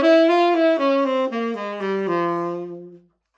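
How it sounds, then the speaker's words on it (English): An instrument plays an F harmonic minor scale, a run of about eight clear, close, sustained notes descending step by step, with no voices, ending in a clean cutoff. "This is an F harmonic minor scale."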